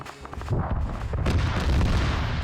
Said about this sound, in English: And you're also hearing long-range missile launches.